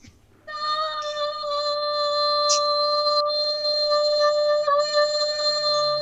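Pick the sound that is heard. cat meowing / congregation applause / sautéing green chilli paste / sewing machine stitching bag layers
cat meowing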